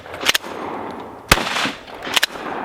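A handgun fired as a contact shot with the muzzle pressed hard against the target lets out sharp, loud cracks, one doubled pair early, a single crack midway and another doubled pair near the end, each followed by a brief noisy decay.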